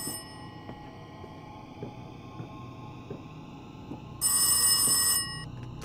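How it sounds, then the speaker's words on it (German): An old-style telephone bell in the horror video game Rise of Insanity rings loudly in one sustained metallic burst near the end, over a low droning hum and faint ambient ticks, with no talking. "Telefon."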